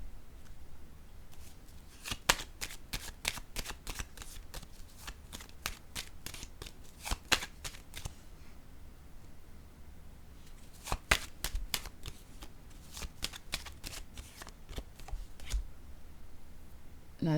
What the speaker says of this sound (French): Je vais déposer une carte sur le dragon.